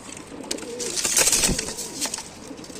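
Pigeons coo softly and repeatedly in a low, throaty murmur at a pigeon sale in Tanta, Egypt, with faint rustling and background noise around them.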